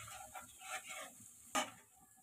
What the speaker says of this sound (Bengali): আমি ভেজে নিব আদা রসুনটাকে